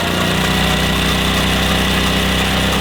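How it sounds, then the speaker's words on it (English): A 1966 Honda P50 moped's small engine idling steadily after a cold start, a continuous even putter with a constant hum, close and unbroken throughout. "It's pretty quiet. Hopefully the microphone's catching that."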